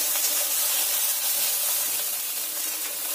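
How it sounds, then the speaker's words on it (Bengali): Salted okra frying in a wok, a dense unbroken hiss and sizzle, close and steady throughout, with no voices. "লবণ দিয়ে আবার একটু ভালো করে ভেজে নিতে হবে।"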